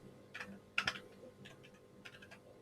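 Keys clatter on a computer keyboard as a terminal command is typed, three short bursts of close, crisp clicks separated by brief pauses, with no voices.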